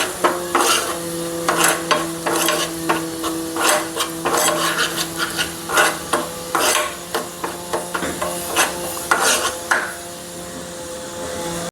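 A spoon stirs pav bhaji masala tadka of Kashmiri red chilli in melted butter, giving a run of close, rhythmic scraping strokes over a soft steady sizzle, with no talking.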